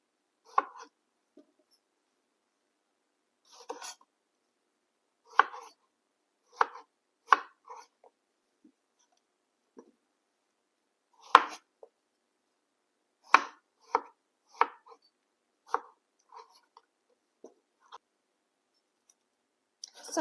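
A knife cuts fresh strawberries in half and trims off the stems for pie filling, making sparse, irregular sharp chops on a board, close and fairly quiet against near silence.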